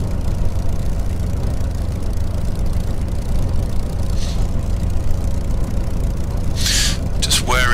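A Spitfire's engine idles with a constant low rumble while the plane taxis along a narrow taxiway in a flight simulator game. Someone talks over the engine the whole time.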